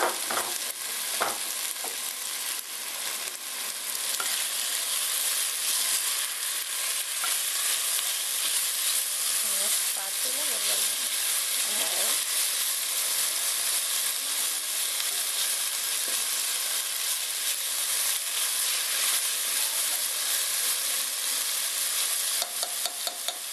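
Red peppers frying in a pan for a Dominican cod stew, a steady loud sizzle with occasional stirring scrapes that runs without a break and with no voices.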